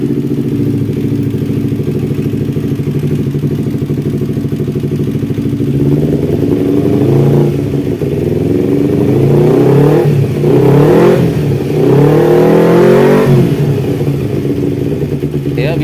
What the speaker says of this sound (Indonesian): kemudian kita nyalakan mesinnya.